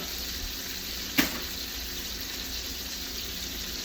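Pork chops fry in browning butter in a pan, giving a steady, soft, crackling sizzle throughout, with one brief louder pop partway through.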